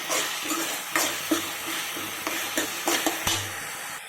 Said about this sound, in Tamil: நமக்கு வெங்காயம், தக்காளி எல்லாம் நல்லா வதங்கி வந்துடுச்சு.